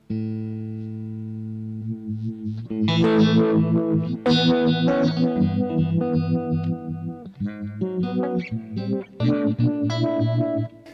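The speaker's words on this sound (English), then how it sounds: "I have a setup with the Uni-Vibe on the Boss MS3" Electric guitar runs through a Uni-Vibe effect on a Boss MS3 processor: a low sustained chord opens, then bright picked phrases and bends pulse with a wobbling, swirling modulation, loud and alone with no voice.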